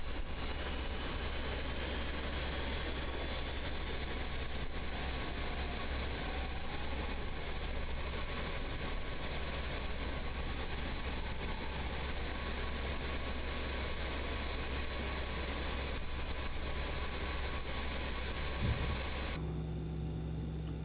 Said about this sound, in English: My engines are all stabilized now.